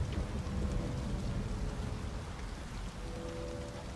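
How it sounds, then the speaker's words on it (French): Heavy rain pours in the video game Detroit: Become Human, a dense, steady hiss of drops on surfaces with a low rumble beneath, fairly faint and continuous with no voices. "il pleut beaucoup trop fort"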